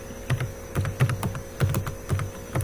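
Keystrokes on a computer keyboard tapping in a quick, uneven run of clicks, close and clear with no talking, as a car name is entered into a C++ file-stream program.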